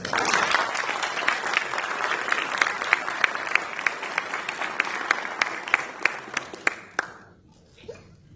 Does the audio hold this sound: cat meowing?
no